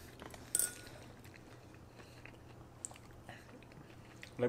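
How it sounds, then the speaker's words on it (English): Dim sum dumplings being chewed at a restaurant meal, soft wet mouth sounds with a few faint crunchy bites and a light clink of tableware, close but quiet, no talking. "Let me chew first."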